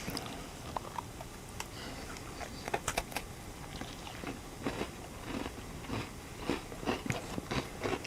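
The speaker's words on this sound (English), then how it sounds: "they have green onion Cheetos and I haven't seen those. they're real crunchy." Close, quiet crunching of green onion Cheetos, with irregular crisp bites and chewing crackles scattered over a soft background, growing busier toward the end.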